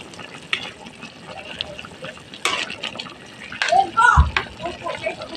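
Water is poured into simmering pork adobo with vegetables, giving a brief splash and gush amid kitchen noise, while a person talks over it.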